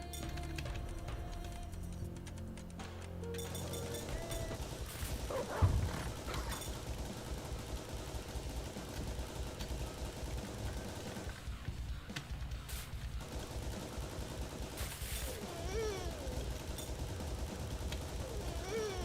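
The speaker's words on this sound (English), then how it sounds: "Rapid fire!" Rapid bursts of gunfire from the Heavy Metal Titans arcade shooter on an iiRcade cabinet, a dense and steady barrage running the whole time alongside game music and effects, with one sharper blast near the middle.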